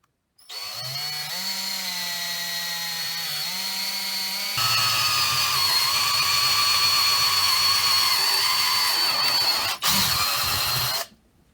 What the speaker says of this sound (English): I'm going to take my drill bit and I'm going to drill a hole in each hole here